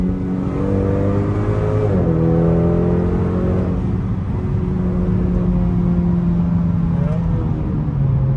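Honda Accord 2.0T fitted with a Borla cat-back exhaust, heard from inside as the engine drones and revs through gear changes, a steady loud exhaust hum with rising and falling pitch, one brief spoken word over it.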